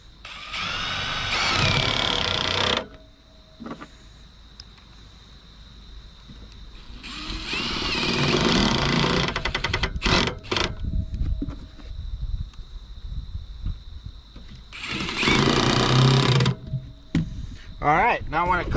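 A power drill drives roofing screws into a pole barn roof in three loud whirring bursts separated by quieter pauses, with someone talking between them.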